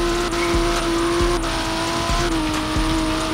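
A BMW M4 Competition engine in the Roblox game Empire VI burbles at a steady, loud drone, punctuated by sharp exhaust pops at roughly regular intervals.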